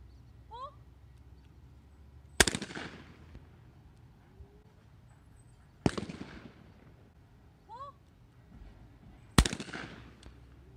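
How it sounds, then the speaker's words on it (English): A Stoeger STF3000 shotgun fitted with a Limbsaver recoil pad fires three loud, sharp outdoor shots spaced a few seconds apart, each with a ringing decay, while birds chirp faintly in the background. "We're gonna try the gun out."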